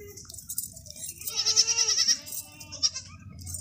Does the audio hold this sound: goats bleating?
yes